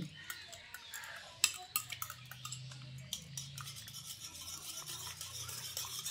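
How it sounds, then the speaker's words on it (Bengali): Soft rapid whirring and clicking of a hand beater whisking sour yogurt into lukewarm milk for mishti doi, close and faint with a few brighter clinks against the bowl, no clear talking. "এইভাবে হ্যান্ড বিটারের সাহায্যে একটু এরকম ফেটিয়ে নিচ্ছি"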